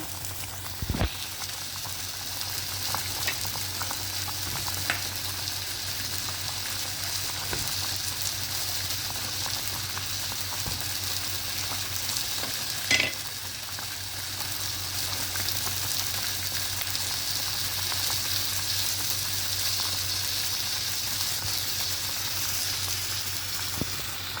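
Vegetable soup with sweet potato, bitter gourd and eggplant simmering in a pot, giving a steady soft bubbling hiss with a few faint clinks, no voices.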